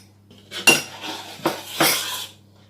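A utensil scrapes and clinks in a bowl as sugar is mixed into mandazi dough, giving three or four close bursts of stirring with a steady low hum underneath.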